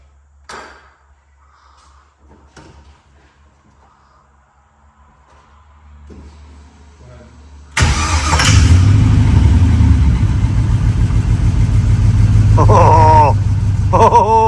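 A car engine is cranked over to build oil pressure. After several quiet seconds of faint knocks and shuffling, a loud engine roar bursts in abruptly and keeps going with rising and falling revs to the end.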